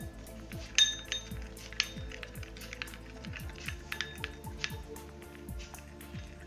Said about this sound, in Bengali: দেন আমি এই দুইটাকে ভালো করে মিক্স করে নিব।